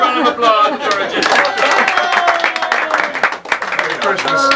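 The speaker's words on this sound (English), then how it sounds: "That's a round of applause for Jimmy." Audience applause at a Christmas event, dense clapping with cheers and excited voices mixed in, loud and close throughout.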